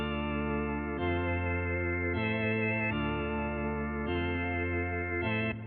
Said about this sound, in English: I want to add that nice reverb on the actual track